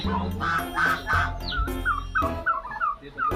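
A goose honks repeatedly at close range, giving a series of nasal calls in quick succession, with waterfowl quacking mixed in.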